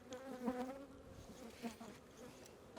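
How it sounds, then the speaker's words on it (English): Honey bees hum from an open hive box full of nurse bees and brood, a soft continuous buzz with swelling passes as individual bees fly near, heard alone without speech. "This box is full of nurse bees, brood, everything."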